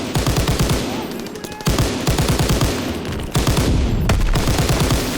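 Rapid, loud bursts of automatic gunfire in a video game, rattling in dense rhythmic volleys with brief gaps between strings of shots.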